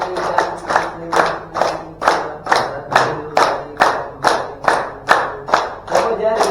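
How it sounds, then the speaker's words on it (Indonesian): A group in an elderly exercise session claps hands in unison, about a dozen evenly spaced claps in a steady counted rhythm, with faint voices underneath. "Tepuk tangan."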